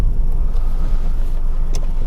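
A car slowing to a smooth stop on a road during an advanced driving demonstration, a steady low engine and road rumble holding close and even throughout, with no voices.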